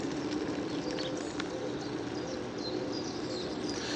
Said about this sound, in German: Das Vogelgezwitscher.